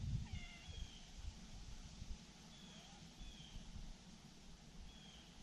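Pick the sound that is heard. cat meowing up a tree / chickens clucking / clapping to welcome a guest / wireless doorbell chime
cat meowing up a tree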